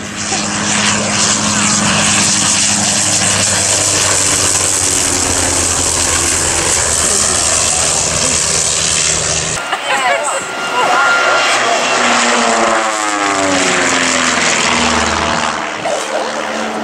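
A vintage monoplane fighter with an original 110 hp Le Rhône rotary engine makes a low pass at an Old Warden airshow, its buzzing engine loud and steady before the sound drops and fades as it passes.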